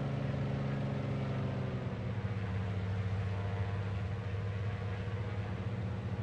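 Grumman Goose radial engine in Microsoft Flight Simulator running at reduced RPM, a steady, loud, even drone throughout with no talking over it.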